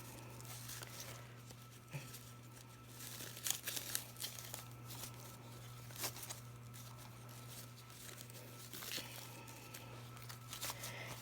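Faint crinkling and rustling as a polka dot ribbon bow is fluffed out by hand, soft scattered crackles and a few sharper rustles over a quiet, steady background hum.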